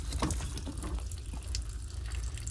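Water runs from a plumbing pipe on a tiling and construction job, a steady splashing rush with faint drips, moderately close and continuous.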